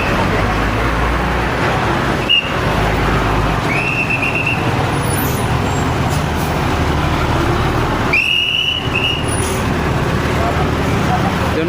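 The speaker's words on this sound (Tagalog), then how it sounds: "Kaya traffic." Busy road traffic at 5 pm in Nabua, Camarines Sur: a steady wash of passing cars, buses and trucks with engine rumble and a few horn-like tones, while a person talks over it.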